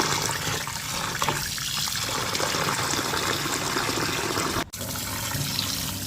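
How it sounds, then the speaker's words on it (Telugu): Old rice grains are washed in running water for chicken dum biryani, with a steady close splashing and trickling wash that runs throughout, broken by one brief sharp knock near the end. "పాత బియ్యం వాష్ చేసుకున్నాను రెండు మూడు సార్లు వాష్ చేసుకున్నాక"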